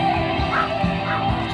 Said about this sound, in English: A spotted dog is here.